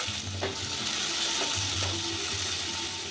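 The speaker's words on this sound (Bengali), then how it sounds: "এবার এই তেলে দিয়ে দেবো একটা ফোড়ন, জিরে, আর দেবো একটা পেঁয়াজ।" Cumin seeds and onion hit hot oil in a pan, already used for frying fish, and give off a steady, close hiss of sizzling with a few faint clicks and low pops, with no talking.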